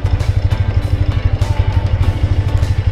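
BMW Airhead motorcycle engine idling slow and low, a steady loping thump with an even, regular beat, close and loud with no talk.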